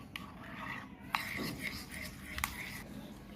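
Batter for Moghlai paratha, thickened with crushed biscuit, is stirred and mixed in a bowl, giving soft scraping and rubbing strokes with a couple of sharper utensil clinks against the bowl.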